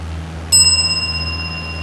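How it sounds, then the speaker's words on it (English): A shiny bell gives a single bright, close ring that decays slowly over a low steady hum. "It's a shiny bell."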